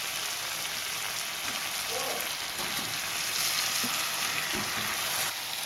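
Cabbage goes into a hot frying pan with green chillies, producing a soft, continuous sizzling hiss, fairly faint and steady, with occasional light stirring clicks.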